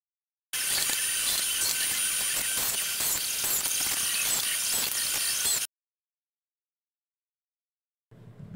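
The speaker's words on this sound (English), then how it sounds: "using 2-inch screws to fasten it down" A power driver sets 2-inch screws into wooden capping on a planter barrel, one long steady whirring drive of about five seconds up close, followed by silence and a brief low rumble at the end.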